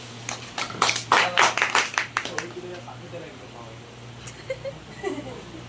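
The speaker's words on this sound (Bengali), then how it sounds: "সবার তরফ থেকে একটা হাততালি" A prize distribution audience gives a short burst of clapping that peaks and quickly fades, followed by quieter room sound with a voice speaking.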